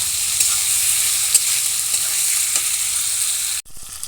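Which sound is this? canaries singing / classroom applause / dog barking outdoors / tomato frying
tomato frying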